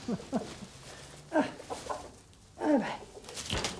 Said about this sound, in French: c'est pas méchant les poules là